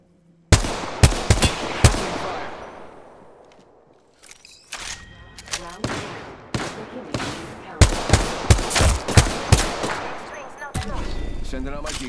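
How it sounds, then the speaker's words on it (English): Bursts of video game gunfire from a battle royale match, with loud sharp shots and rapid automatic volleys that ring out and decay, some clustered and some spaced apart, close and dominant. "I'm taking fire."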